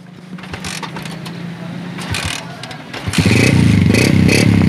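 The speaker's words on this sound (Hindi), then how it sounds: "बाइक अपने साउंड में बोल रही है" A Chinese 125cc motorcycle engine, first idling with light mechanical clatter, then revving up loudly and staying at a strong, throbbing run for the last seconds, close by.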